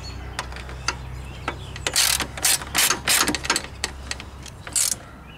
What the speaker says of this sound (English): Make sure we're tightening this side up.